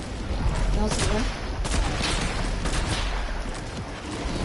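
Video game gunfire, a loud, continuous volley of overlapping shots with a few sharper cracks standing out.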